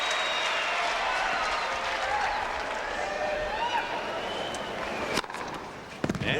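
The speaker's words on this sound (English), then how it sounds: "That's awakened the crowd here at Arthur Ashe Stadium." Crowd noise swells through a tennis match at Arthur Ashe Stadium during the US Open, a broad sustained roar of applause and cheering from a large audience, fairly loud and steady, with a few sharper claps near the end.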